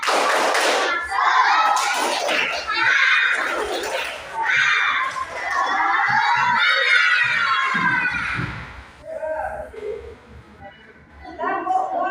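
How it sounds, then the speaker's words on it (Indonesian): Elementary schoolchildren in a classroom perform a spirit clapping chant, shouting rhythmic words together over bursts of claps and thumps, loud and near, with a teacher's voice leading between. "kita tepuk semangat dulu ya."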